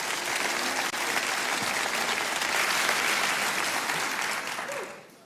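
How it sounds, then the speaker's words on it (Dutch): Theater audience applauding the technical crew at the Mooi Limburgs Muziekfestival, a dense, steady wash of many clapping hands held for about five seconds before fading out at the end. "Applaus voor de mannen en vrouwen van de techniek van vanavond, dames en heren."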